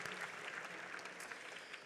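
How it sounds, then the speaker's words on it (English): Audience applause at a democracy gala fills the room, a steady dense wash of many hands clapping, moderately loud and continuous with no voices over it. "Let's give them a round of applause."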